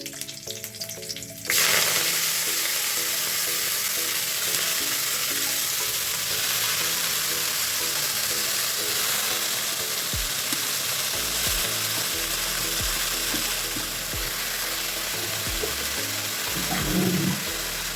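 Pea greens hit hot oil seasoned with dried chillies and nigella seeds and start to fry with a loud, steady sizzle. Louder hissing and a few stirring clanks follow, with no talking.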